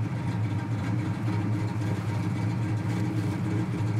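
The V8 of a 1972 AMC Javelin SST idles steadily up close with a deep, even, throbbing rumble and no voices over it.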